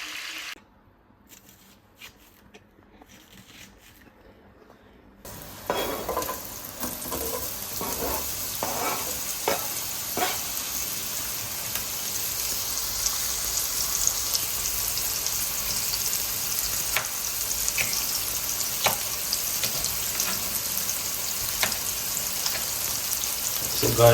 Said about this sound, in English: so right now we're making our gravy, guys. Yeah, our homemade gravy.